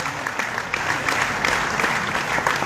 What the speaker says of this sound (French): M. Abakal Mahamat, que je demande d'applaudir très très fort